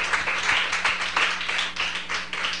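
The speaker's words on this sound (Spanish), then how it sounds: "dale un aplauso a aquel que vive y reina para siempre" A church congregation claps in a loose, rhythmic burst of applause, fairly close and steady for a couple of seconds.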